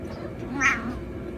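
A house cat gives a single short meow partway through, moderately close over a steady background hum.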